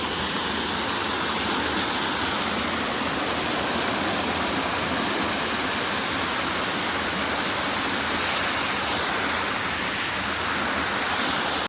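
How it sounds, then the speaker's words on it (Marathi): Usgaon waterfall near Mumbai roars in a steady, loud, unbroken wash of falling water that fills the whole stretch, with no voices over it. "सुंदर असा वॉटरफॉल आहे"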